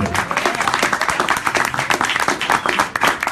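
An audience at a live music gig in Boston applauds after a song, a dense burst of clapping that holds steady from start to finish, with a few scattered voices mixed in.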